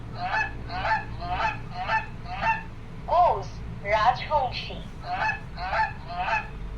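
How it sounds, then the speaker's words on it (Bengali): A goose honks in a quick run of about a dozen loud, nasal calls. The calls come in short bursts close to the listener, over a low background hum. "goose রাজহংসী"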